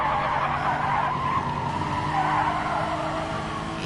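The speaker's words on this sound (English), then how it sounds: "You hear those tires screeching" Race car tires screech loudly and continuously during an All Japan GT Championship round at Autopolis, a sustained, wavering squeal over engine roar, with no talk.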